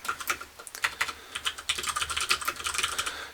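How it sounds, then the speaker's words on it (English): Quick, uneven typing on a computer keyboard, close and fairly quiet, with clusters of key clicks and brief pauses, alone with no talk. "let me just type this out"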